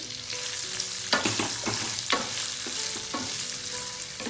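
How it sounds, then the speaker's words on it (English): Onions fry steadily in hot oil with a spice mixture for a Bihari caramelized onion chicken curry, a continuous close sizzle broken by several sharp scrapes and clacks of stirring. "I like adding the onions in batches, that way I can kind of coat them really well in this whole spice mixture and the oil."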